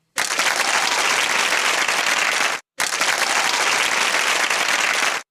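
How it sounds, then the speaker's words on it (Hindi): Audience applause for a student in a CA Inter Audit class, a dense, loud burst of many hands clapping that stops briefly and resumes, with no talk. "हो जाए ढेर सारी तालियां"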